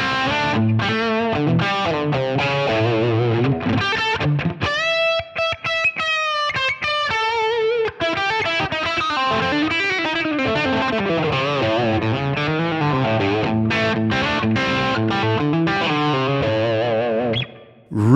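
Electric guitar played through the Line 6 Helix Voltage amp model rings out in sustained, overdriven chords and melodic phrases, loud and close, with no talking.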